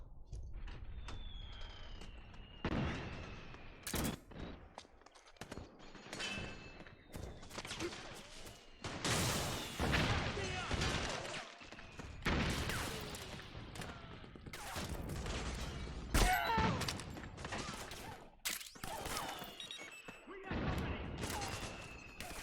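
Gunfire from Metal Gear Solid 4: Guns of the Patriots sounds in loud, repeated bursts and volleys, broken by short pauses and mechanical clanks, while players talk over the battle.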